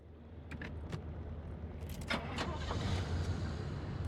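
A car engine starts in the video game Pacific Drive, a brief cranking clatter followed by a rising rumble that settles into a steady idle under faint background noise.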